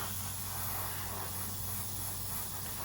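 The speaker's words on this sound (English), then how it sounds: "Now I didn't dilute this in my airbrush, I'm just misting over it" Airbrush misting paint over a 1/32 Zoukei Mura He-219 model kit, heard as a continuous close, even hiss for the whole short stretch.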